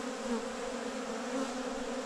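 Honeybees buzzing around honey supers set out to be reclaimed, a steady dense drone of many insects, fairly close and even in level throughout.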